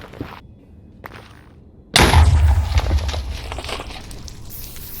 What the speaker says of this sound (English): Now I just needed to explode beds until I found netherite.